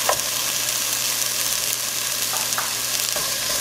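Onions frying in a pan for a Mexican-style roasted poblano dish, a steady close sizzle and crackle with occasional stirring scrapes, no voices.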